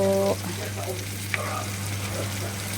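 Kohlrabi and ground pork frying in a hot pan give a steady close sizzle with a few stirring scrapes. A brief tonal hum sits at the very start.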